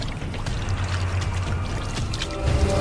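Water pours and splashes in a steady hiss, with a low rumble rising near the end. The short, continuous stretch has no talk over it.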